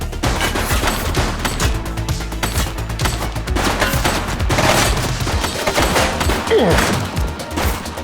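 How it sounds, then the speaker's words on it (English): Rapid, loud gunfire from the police game The Precinct, a near-continuous series of sharp shots and bursts over a busy background. "He's shooting!"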